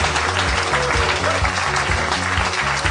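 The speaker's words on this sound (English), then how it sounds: "Keep clapping" A live comedy podcast audience claps steadily and loudly throughout, a dense, sustained wash of applause with no talk over it.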